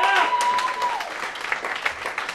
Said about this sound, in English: One more round of applause for Brad Wenzel, everybody!